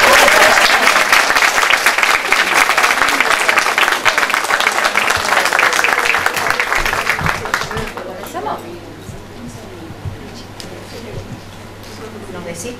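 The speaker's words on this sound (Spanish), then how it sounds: "Un fuerte aplauso." A crowd at a council reception and book presentation gives a loud, dense round of applause that fades after several seconds into scattered claps and quiet murmuring.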